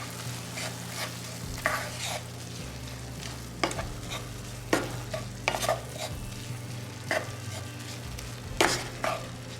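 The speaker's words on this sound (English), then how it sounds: "A teaspoon of chili powder. I'm going to stir that in." Chili powder is stirred into food frying in a pan, with a steady sizzle under irregular scraping strokes of a utensil against the pan, close and clear, with no voices.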